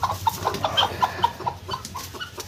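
Two hens sitting together on a clutch of eggs give soft, repeated clucks, a close, steady string of short calls over a low background hum.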